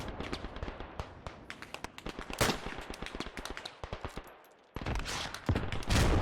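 Rapid gunfire in the multiplayer World War I shooter Beyond the Wire, with bursts of sharp shots crackling in irregular volleys, a brief lull, then heavier close fire resuming.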